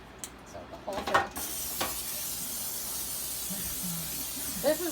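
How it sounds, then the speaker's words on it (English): Cooking spray hisses onto a regular baking pan, a few short bursts followed by a sustained, close spray hiss, with faint handling noises around it. "this has to be sprayed with pan. So the whole thing."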